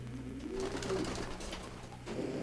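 Pigeons coo in a loft, with soft low murmuring calls repeating under a steady ambient hum and no talk.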